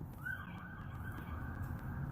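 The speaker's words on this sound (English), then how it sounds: "God, there was a police siren." A faint police siren wails in the distance, a thin sustained tone drifting over low rumbling traffic noise.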